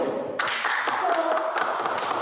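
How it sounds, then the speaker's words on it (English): Workshop participants applaud a person in a small indoor group, a short burst of light, scattered clapping that starts abruptly and continues evenly, fairly close and moderately loud. "Big round of applause to Paulo."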